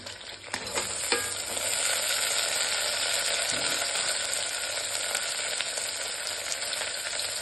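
Vegetables for a vegetable pulao fry in a pan as beans are added, giving a loud, continuous, close sizzle with a few stirring scrapes near the start.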